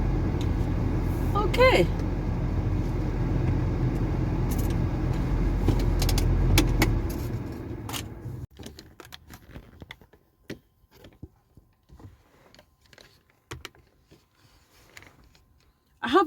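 A car on the road, steady engine and road rumble for several seconds before it settles into quieter mechanical clicks and knocks, with a brief spoken word.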